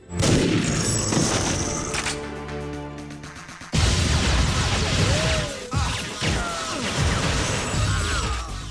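Weapons fire in the video game TimeSplitters 2, with loud bursts of gunfire and crashing impacts close up, followed by dense action sounds with sharp hits and whooshing effects.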